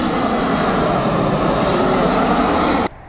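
A loud, steady roar of a passing Airbus A320 airliner's jet engines, landing at Rome Fiumicino airport, fills the air, then cuts off abruptly near the end.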